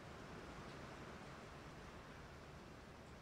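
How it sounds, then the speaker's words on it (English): Heavy rain pouring down outside during a power-flickering storm, a dense, steady broadband hiss and roar that stays constant throughout with no voices. "that rain's heavy"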